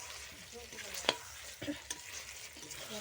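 Prawn malaikari cooks in a pan with a soft, quiet sizzle, broken by a few spatula scrapes and sharp clicks against the metal.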